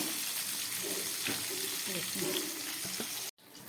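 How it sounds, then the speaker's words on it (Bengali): Koi fish frying in hot oil in a pan, a steady close sizzle with faint clinks and scraping as pieces are lifted out, ending in a sudden cut. "মাছগুলো ভাজা হয়ে গেছে, এবার আমি তুলে ফেলছি"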